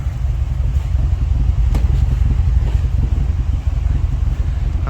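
An old, long-stored Land Rover Defender engine idles with a steady low rumble and is given gentle, light revs, loud and close throughout.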